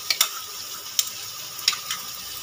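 Veg pulao with sour yogurt stirred into it in a pan gives a soft sizzle under a few sharp scrapes and taps from a spoon, close and sparse over a couple of seconds.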